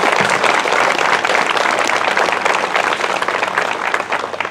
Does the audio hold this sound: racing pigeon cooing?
no